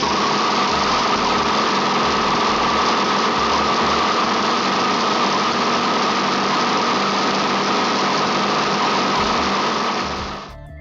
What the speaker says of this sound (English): Now currently there are 2 prototype engines, and it's pretty impressive to see something like this actually running.